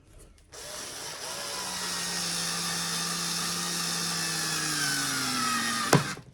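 A power drill drives a screw into white pine for a cigar box guitar, one continuous whirring run whose pitch slowly drops under load before ending in a sharp click, close and alone.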